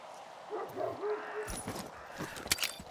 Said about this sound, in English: Your dog's barking.